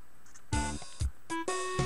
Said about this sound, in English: Oh, the doorbell!